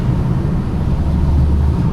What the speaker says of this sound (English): Do you hear my car, guys? It's roaring.